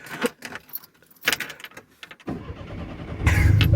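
Keys jangle in short bursts, then a car engine cranks and turns over, rising into a steady rumble at close range.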